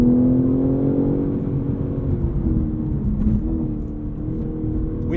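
A 2023 BMW M3 Competition xDrive with a turbocharged engine revs while driving, a loud, close, continuous engine drone that holds high revs with slight pitch shifts through the cabin.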